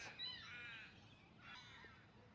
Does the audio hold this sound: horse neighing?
no